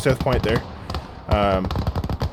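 Submachine gun troopers fire in the World War II strategy game Gates of Hell: Ostfront, with short rattling bursts mixed with a voice talking over them.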